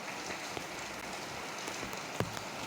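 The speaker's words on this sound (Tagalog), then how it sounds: "Ulan lang talaga ng ulan dahil may bagyo na talaga." Heavy rain falls during a typhoon, making a dense, continuous patter with a few louder drops and splashes standing out close by.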